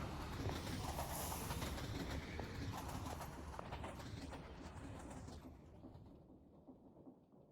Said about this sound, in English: we should have another train coming through now